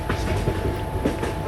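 A train runs in the Indian Train Simulator game near Surat Junction, with a steady loud rumble and rhythmic wheel clatter over the rails, close and continuous.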